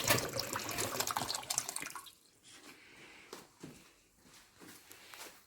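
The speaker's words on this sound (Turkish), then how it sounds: "Su dolduruyoruz arkadaşlar bunu kaynatacağımız." Water runs from a tap into a pot for boiling meat, a loud splashing gush at first that drops into softer, intermittent trickles and drips with no talking.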